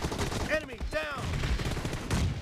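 Rapid automatic M416 rifle fire in a team deathmatch shooter game, dense close bursts running the whole moment, with short voiced game callouts rising above the gunfire.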